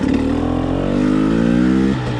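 A 2021 300XC dirt bike engine revs on a mountain ride, its two-stroke power valve turned well in and 49-tooth rear gearing fitted. The loud, close buzz climbs steadily in pitch, then drops off near the end, with no talking.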